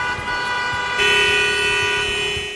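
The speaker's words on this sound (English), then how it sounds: "The sound of cars" Car horns honking in traffic: one steady horn tone, then a second, louder horn joining partway through and holding to the end.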